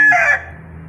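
A rooster on a Filipino farm gives one loud, close crow that fades out, with low farmyard hum beneath.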